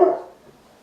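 A puppy gives a short, loud bark-whimper right at the start, which trails off into quiet, with no one speaking.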